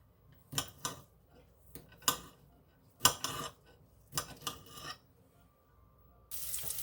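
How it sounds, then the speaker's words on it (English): A knife slicing andouille sausage on a board, giving a series of distinct close chopping strokes with quiet gaps between them. A brief burst of hiss follows at the end. "I'm going to go ahead and finish slicing my sausage."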